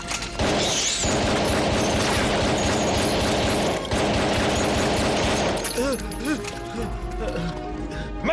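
Dense bursts of automatic gunfire and crashing impacts fill a night-time border firefight in the Hindi-dubbed Hollywood action film Bugs, loud and continuous before thinning near the end, with shouting voices over it.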